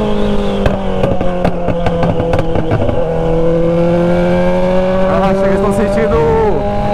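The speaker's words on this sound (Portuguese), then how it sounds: "Numa moto berrando demais, depois que eu limpei esse escapamento" A BMW 1200 motorcycle with a cleaned-out exhaust roars loudly at a night bike meet in a town square, its deep engine drone rising and falling with revs while voices talk over it.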